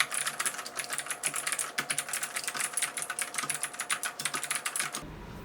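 Fast, dense typing on a blue-switch mechanical keyboard, with crisp sharp clacks in a steady flurry, close and fairly loud, stopping just before the end.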